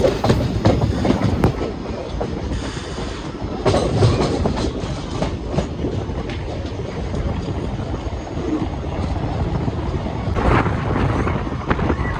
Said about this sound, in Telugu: ఈ ట్రైన్ ఎక్కడ పడితే అక్కడ ఆపేసి చాలా అంటే చాలా లైక్ స్లోగా ఒక ప్యాసింజర్ లాగా వెళ్తుంది